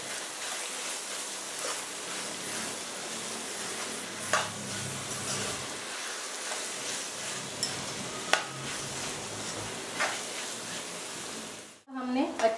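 Half-boiled mixed vegetables being stirred and tossed in a pan for veg biryani, a steady soft sizzle with scraping spoon strokes throughout, close and moderately quiet, ending with a brief clatter.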